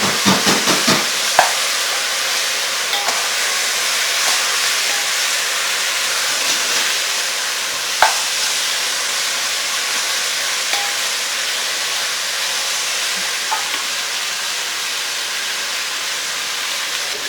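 Pork is added to melted caramelized sugar in a pot, sending up a loud, steady sizzling hiss that runs the whole time, broken by a couple of brief clicks and knocks from the pan.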